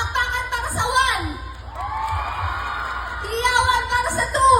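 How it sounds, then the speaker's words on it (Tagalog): An audience cheers, whoops and yells for contestant number one at a lively show, with loud crowd noise in bursts and voices calling out over it. "Palakpakan para sa 1."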